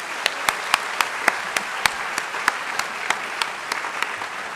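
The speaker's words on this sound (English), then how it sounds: "Let's give him a round of applause." Audience applause at a school chapel gathering, a steady wash of many hands with sharper individual claps popping out roughly every quarter second, moderately loud and sustained with no talking.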